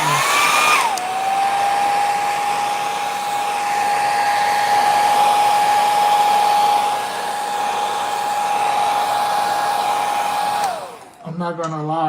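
An airbrush spraying paint for a practice piece, a continuous steady hiss with a faint tonal whine from the compressor, starting and stopping cleanly after about ten seconds and heard close up.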